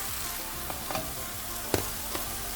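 Beans, carrots and other vegetables frying for veg kothu parotta make a steady close sizzle, with a few soft knocks and scrapes as they are stirred in the pan.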